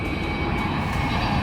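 An IndiGo airliner flies directly overhead in Leh, Ladakh, making a loud, steady engine roar that fills the whole moment without a break.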